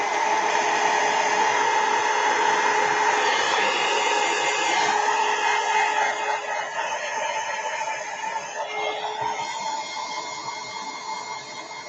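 A hair dryer blows steadily on an art journal page to dry it, a loud, continuous close whir that eases slightly in the final seconds.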